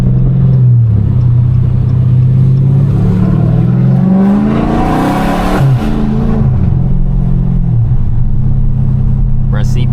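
Dodge Scat Pack V8 with no hood, revving hard with a deep rumble that climbs in pitch, then drops through downshifts with a throaty blip, loud and close from inside the car.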